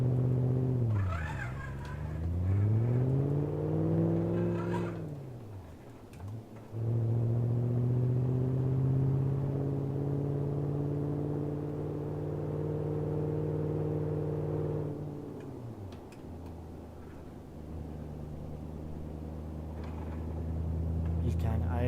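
A car engine in the BeamNG driving game hums steadily at idle, a smooth low drone that dips and rises in pitch a few times when revved, fairly quiet throughout.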